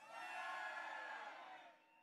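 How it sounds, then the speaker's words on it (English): A crowd at a Republic Day rally against the monarchy roars a loud cheer that swells and then tapers off over about two seconds. "Give a huge cheer for a democratic republic."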